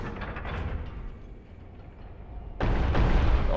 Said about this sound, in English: You hear that grinding sound? That's the sound of the trap resetting.